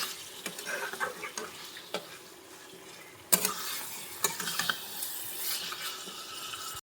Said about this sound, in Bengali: তো দেখো কষানো চলছে এখনো।